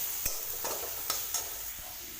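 Garlic frying in oil for a vegetable dish, a hissing sizzle with a few scattered spoon taps against the pan, close and moderately quiet, with no one speaking.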